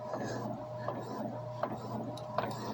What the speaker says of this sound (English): as soon as that's done printing out, I'm gonna show you guys that